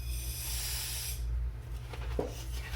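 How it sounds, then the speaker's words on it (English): A can of compressed air sprays in a loud, close hiss for over a second, then cuts off, leaving quieter background with a brief faint knock. "Keep it upright when you spray it. It's just air, compressed air."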